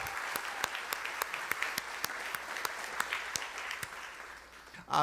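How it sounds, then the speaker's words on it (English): Applause from a gala audience, a steady wash of many hands clapping with sharper individual claps popping through, fairly distant and moderate in level, ending with a brief louder burst. "please give her a giant applause"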